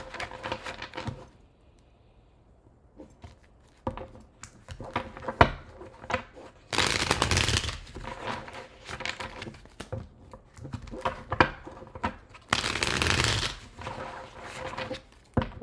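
Tarot cards being shuffled by hand in two long, loud riffling bursts, with softer handling and tapping of the deck in between; no voice.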